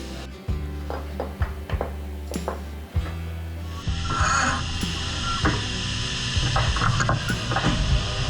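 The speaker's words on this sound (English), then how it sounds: "it looks like CNC just finished up our part" A CNC machine cuts an exhaust part for a custom 1969 Plymouth Road Runner build, a steady mechanical hum with repeated clunks and ratcheting ticks that grows into a denser whirring grind.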